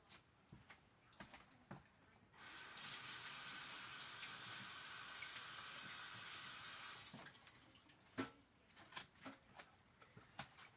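A kitchen faucet runs steadily for about four seconds while chopped vegetables are rinsed, a bright hissing stream framed by scattered clinks and handling noises before and after.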